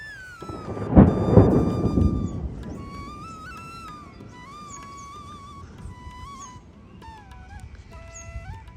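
A thunderstorm with rain, where a loud rumble of thunder rolls near the start and slowly fades, leaving steady rain underneath while a high whistling or whining tone wavers over it.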